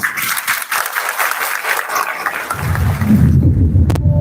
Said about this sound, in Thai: ขอเสียงปรบมือให้วีดิทัศน์ชุดนี้ด้วยครับ